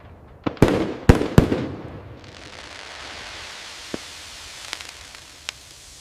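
Several sharp fireworks launch cracks go off in quick succession, then a long fading crackling hiss trails away with a few scattered distant pops.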